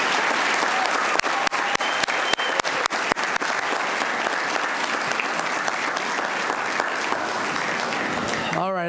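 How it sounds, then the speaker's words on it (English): Applause for students and their teachers at a city commission meeting, a full room clapping steadily and loudly, with a few sharper individual claps standing out early and a brief voice at the very end. "If we can give all of our students and their teachers a big round of applause"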